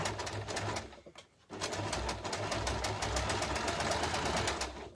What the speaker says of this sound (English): it doesn't matter how hard I try with this sewing machine